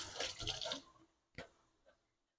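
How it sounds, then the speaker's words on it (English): Water gushing from a kitchen sink tap during hand washing, a brief rushing burst that cuts off, followed by a couple of faint clanks and drips. "Wash my hands a bit."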